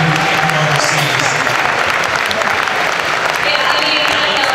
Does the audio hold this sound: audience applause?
yes